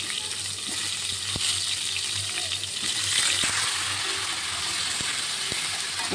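Cauliflower pieces frying in hot oil, after fish was fried in it, make a continuous rushing sizzle with occasional soft clicks and pops, close by and without speech.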